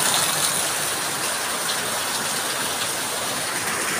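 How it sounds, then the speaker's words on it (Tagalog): Very heavy monsoon rain pours in a dense, continuous hiss that stays steady from start to finish, with no voices. "napakalakas na ulan"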